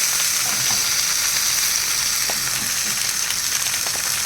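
Pomfret wrapped in banana leaf frying in hot oil gives off a steady, close, bright sizzle that runs unbroken, with a few faint pops and no voices.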